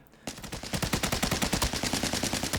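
An AN-94 Abakan fires full-auto in the shooter game Arena Breakout Infinite, a loud, close, rapid string of about twenty evenly spaced shots after a brief quiet start, with no talking.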